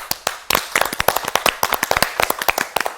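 Sharp, close hand claps in an irregular flurry, loud individual smacks overlapping in quick succession with no talk.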